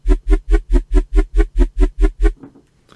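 A heavy air wobble bass synth patch built in Serum pulses in about ten even, loud wobbling throbs, then stops, with a faint tail and no talking.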